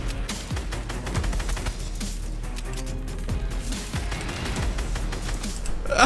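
Gunfire in a Fortnite match, a rapid run of loud, close shots and crackling bursts, nearly continuous for several seconds amid game noise.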